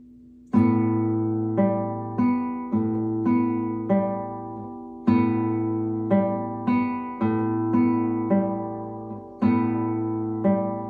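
Guitar picked in a steady repeating pattern, bright plucked notes ringing over a low bass note, close and clear with no talking.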